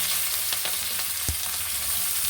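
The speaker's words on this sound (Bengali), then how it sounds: "এবার দিয়ে দেবো পেঁয়াজ কুচি" Chopped onion fries in hot oil with chilli, ginger and garlic, giving a close, loud, even sizzle, with one clear knock of a utensil midway and no speech.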